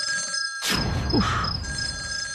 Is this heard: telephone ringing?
yes